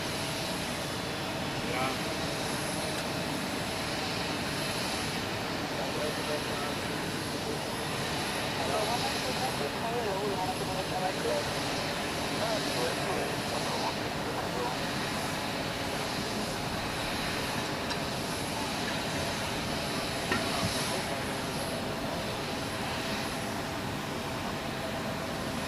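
Swiss Airbus A330 jet taxiing out at Zurich Airport, a steady broadband engine roar that holds at an even level throughout, heard from a distance with a voice talking over it.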